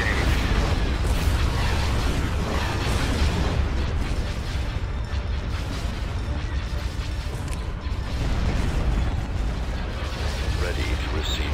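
Star Destroyer weapons firing in a Star Wars space battle game: dense, continuous rumbling booms and bursts with mechanical clatter, loud and sustained, while clipped voices speak over the barrage.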